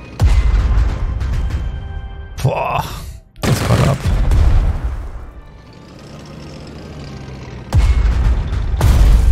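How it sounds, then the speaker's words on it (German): Artillery shots and explosions from the strategy video game Strategic Mind: Blitzkrieg, several heavy booms and blasts in quick succession across the clip, loud, with a brief male exclamation among them. "Und Schuss."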